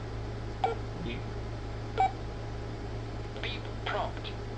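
A Quansheng UV-K5 handheld radio sounds short electronic beeps at its prompt, three or four brief tones spread across a few seconds over a steady low hum, close and fairly faint.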